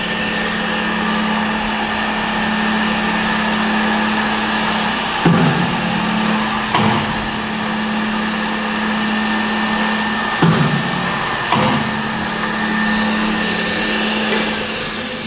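A Woodtek BM-301 adjustable-center dual spindle horizontal boring machine running with a steady motor whine and hum, broken by several short bursts of air hiss and clunks as the spindles cycle.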